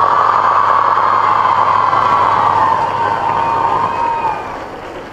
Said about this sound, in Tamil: ரொம்ப நாள் கழிச்சு ஒரு 75 வயது இளைஞருக்கு இவ்வளவு ஒரு கரகோஷம்.